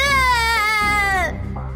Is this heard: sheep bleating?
no